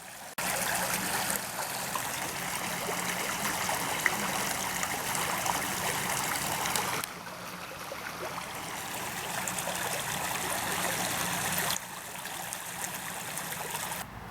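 Frog Creek flowing at night, a constant close rushing and trickling of water, steady and moderately loud, with two abrupt level shifts as the sound cuts and resumes, and no voices.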